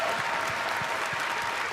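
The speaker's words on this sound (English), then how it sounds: "if you guys don't mind just giving a hand to the Cinemax team that's out in the crowd" Applause from the BlizzCon convention audience for the Blizzard cinematics team, steady and dense clapping from a large crowd throughout, loud and close.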